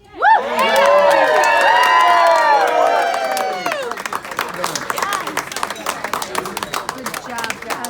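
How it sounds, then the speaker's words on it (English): Wedding guests at a reception break into loud cheering, whooping and applause after a best man's speech, a dense burst of excited voices and clapping that fades into scattered claps and chatter. "give a big round of applause as you put your glasses down for that fantastic speech"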